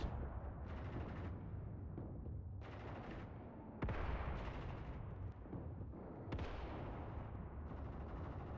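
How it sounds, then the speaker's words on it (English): Machine gun teams fire on targets in the open in the WWII strategy game Mius Front. The result is sustained crackling bursts over a constant low battlefield rumble, with a few sharp louder cracks. "MG teams out here on the rightmost flank are engaging targets in the open"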